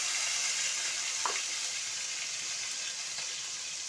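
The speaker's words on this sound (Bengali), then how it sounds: "গোটা গরম মশলা, জিরে ফোড়ন দিয়ে দিলাম, সাথে টমেটো দিয়ে দিলাম ফোড়ন" Whole garam masala, dried red chilli, cumin seeds and tomato fry in hot oil with a soft, steady sizzling hiss and a couple of faint spatters, heard close but at low volume.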